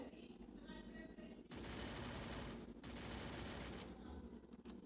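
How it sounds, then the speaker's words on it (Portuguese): Two long bursts of rapid automatic gunfire in the video game Free Fire, loud and sustained, with quieter scattered shots before and after. "Tem um monte de tiro em outro."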